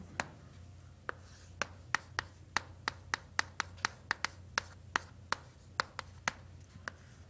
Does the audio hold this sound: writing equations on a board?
yes